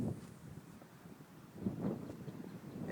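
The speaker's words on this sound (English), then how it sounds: "One thing I'm not impressed in is with the wind." Wind gusting across an outdoor rifle range, a low, steady rumble of buffeting against the microphone that swells faintly near the end, quiet and with no other sounds.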